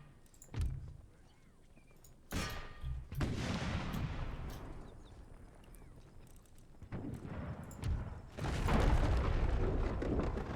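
Musket volleys crack out across an Empire: Total War battlefield, several loud bursts of massed fire, some ragged and rolling, with a long heavy fusillade near the end over a low ambient rumble.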